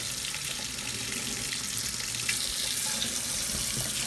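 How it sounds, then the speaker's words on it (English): Hot tap water runs into a glass kettle being rinsed, a steady hissing splash close by with faint clinks, no talking. "So give it a rinse. Use hot water."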